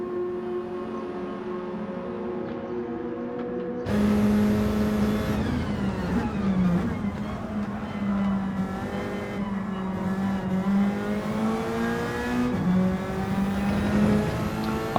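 Nissan Silvia S15 race cars in Gran Turismo 7 roar steadily, a sustained engine drone with shifting pitch as the cars accelerate, loud throughout after a quieter start.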